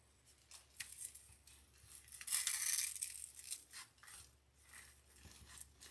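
Scissors snip a berry stem for a sunflower tobacco basket arrangement: faint close clicks and one louder crunchy cut, with light rustling of stems around it in a quiet room.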